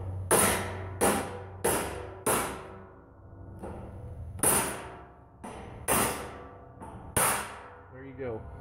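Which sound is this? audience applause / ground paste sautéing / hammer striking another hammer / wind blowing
hammer striking another hammer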